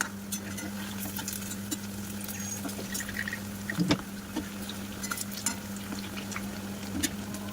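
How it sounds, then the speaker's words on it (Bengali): Puffed-rice langcha sweets deep-fry in hot oil with a constant bubbling sizzle, a low hum underneath and scattered clicks and stirring knocks. "তো দেখো পুরো একদম লাল লাল করে ভাজা করে নেব"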